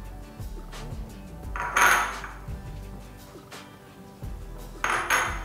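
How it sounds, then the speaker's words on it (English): Vegetables tossed into a cooking pot for a vegetable sauce produce two clattering, clanking bursts a few seconds apart, with lighter knocks and taps of cookware between them, close and without voices. "At this point, I'm going to throw in my remaining vegetables."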